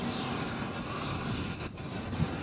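JetBlue Airbus A220 airplane at Nashville airport, a faint distant engine roar, steady and broadband, heard alone over a short stretch.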